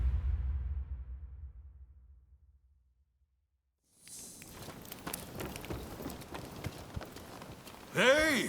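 Horse hooves clip-clop in the video game Rise of the Ronin, a quick run of rapid, close hoofbeats with a faint rainy patter. A low rumble fades to silence first, and a brief louder burst follows at the end.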